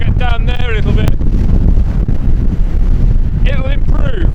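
Strong wind buffets the microphone high on an exposed coastal hillside at Stoer during a storm, a constant loud low rumble filling the whole stretch, with bursts of bright whistling tones near the start and again toward the end.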